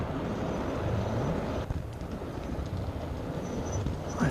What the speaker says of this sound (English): Oh, it's James, not Thomas, with his express train.